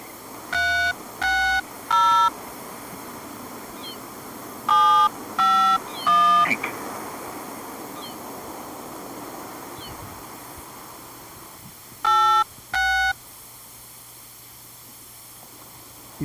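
Telephone keypad tones beep in short bursts of a few presses as a number is dialled during a call, separated by quiet gaps with faint chirps, then two more tone presses near the end.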